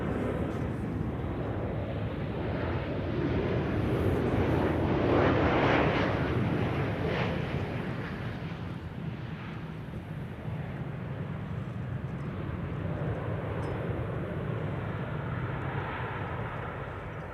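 A Boeing 737-800 airliner arriving from Stockholm at Amsterdam Schiphol, its engines a steady broadband roar that swells midway and then holds at a moderate, fairly distant level, with no talk over it.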